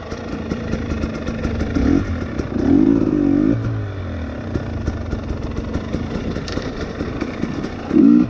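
A KTM XC250tpi two-stroke dirt bike rides on trails with a steady engine drone, varying slightly as the throttle shifts, heard from on the bike and close.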